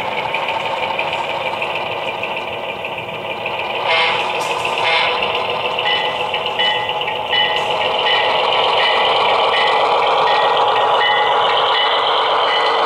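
Diesel locomotive prime mover on a model train layout, running with a steady loud droning rumble and a buzzy mechanical whine that holds throughout, with no voices.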